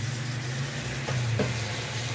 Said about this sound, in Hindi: उबलता हुआ पानी जो है ना वो शामिल करना है